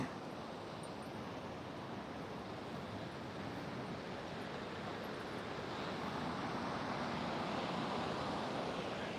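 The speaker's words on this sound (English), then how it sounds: "Feel this cool ocean breeze on your skin." Ocean waves and a breeze at an oceanfront, a steady, broad hiss of surf and moving air that stays even and fairly close throughout, with no voices.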